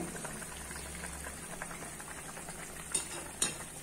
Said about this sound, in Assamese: আৰু অলপমান উতলিবলৈ দিম এনেকৈ পুৰা উতলিব লাগিব